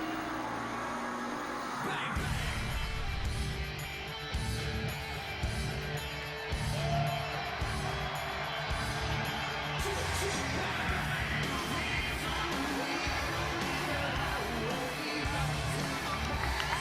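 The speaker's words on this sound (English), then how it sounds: "Crowd reactions for challenger and champion, very intriguing as well" A large arena crowd at a TNA wrestling event featuring Sting and Mick Foley with a six-sided steel cage roars steadily, with cheering, yelling and a noisy wash of voices that swells and holds throughout.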